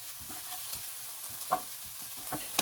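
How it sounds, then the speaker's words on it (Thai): Soft stirring and faint sizzling of pounded spices dry-roasting in a hot wok, quiet and continuous with small scraping accents. "นำเครื่องที่โขกแล้วเนี่ยลงไปคั่วในกระทะเลยครับ"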